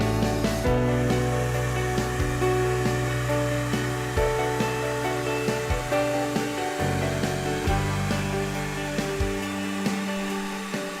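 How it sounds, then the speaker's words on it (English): A heat gun warms Arlon vinyl wrap while it is applied into deep channels. It gives a loud, steady blower whir with a faint hum under it, continuous throughout and with no talking. "So heat here, with the heat gun pointing away from the channel, and make the application here."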